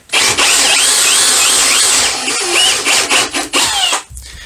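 An Einhell TP-CD 18/120 impact driver unscrewing runs as a loud, close, high whirring that holds steady, then surges and dips in short bursts before cutting out near the end.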